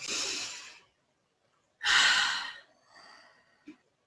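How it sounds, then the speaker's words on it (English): During a guided relaxation session, a close, soft deep breath: an airy inhale, a pause, then a stronger exhale tapering into a quieter trailing breath and a small click at the end, with no speech. "take another nice deep breath in and out"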